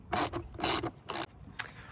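Plastic clips on the air filter housing of a 2015 VW Jetta GLI are fastened by hand. Three short scraping snaps come in quick succession, followed by a fainter click, all close and quiet.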